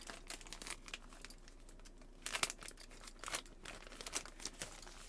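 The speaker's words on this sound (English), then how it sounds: "Maybe I have to cut the bag open too." Sealed plastic bag for a DJI Osmo Pocket 4 camera being handled and cut open, faint close crinkling and rustling in short bursts with a couple of sharper crackles.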